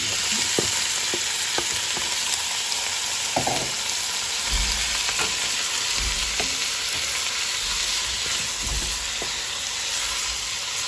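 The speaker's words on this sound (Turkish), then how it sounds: "Tavaya yağımı ekledim. İşkembemi ekleyeceğim." Tripe frying in oil in a pan while being stirred, a continuous loud sizzle with scattered scraping and clinking of a utensil against the pan throughout.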